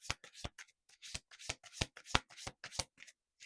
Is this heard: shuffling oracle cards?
yes